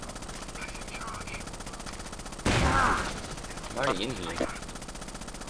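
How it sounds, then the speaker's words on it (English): Machine gun firing continuously in Rainbow Six: Vegas 2, a steady rattling stream of shots running beneath the clip, interrupted by a loud burst of another sound and some talking. "You hate when you get that machine gun glitch and it just keeps firing"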